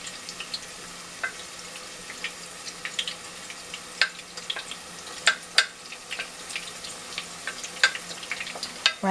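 Onions fry in oil in a pot for Ghanaian jollof rice, giving a quiet, light sizzle punctuated by scattered sharp pops and crackles, close by with no talking.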